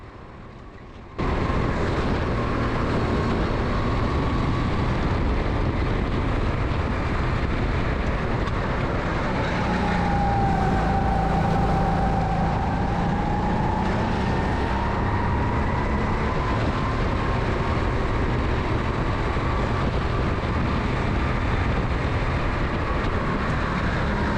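A racing kart engine during a sprint race, a steady loud roar throughout with a rising and falling whine as the kart accelerates and slows, heard up close like onboard.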